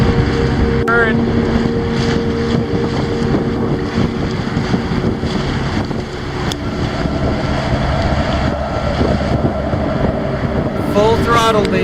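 Sailboat engine at full throttle in the East River through Hell Gate, a steady loud drone under heavy wind buffeting and water rush, with brief voices.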